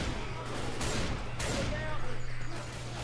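Rapid bursts of zombie-shooter gunfire in Left 4 Dead, loud repeated shots in quick succession layered with in-game noise and a steady low hum.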